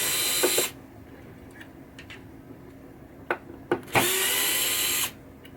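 A power drill backs screws out of a 1967 Williams Blast Off pinball machine, two loud whirring bursts separated by a pause with small clicks and taps of handling, close up.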